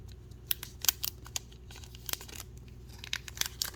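Several sharp, uneven crinkling rips and tears of a foil trading card pack of Digimon cards being pulled open by hand, close up, with faint background hum and no voices.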